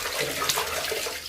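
Water splashing and pouring over Argo the dog during a bath, a brief, close, soft gush with no talk.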